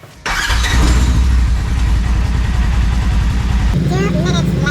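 A Polaris RZR 1000 side-by-side engine cranks and catches abruptly, then runs in a loud, close, rhythmic idle before shifting to a lower steady rumble as a person starts talking over it.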